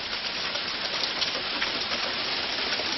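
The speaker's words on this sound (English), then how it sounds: "There's hail coming down!" Hail pours down outside as a steady, dense hiss of countless small impacts, even and unbroken throughout, with no voices.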